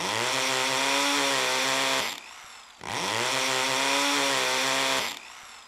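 A chainsaw in a video game roars in two sustained bursts of about two seconds each, with a short gap between them, loud and close with a steady buzzing drone.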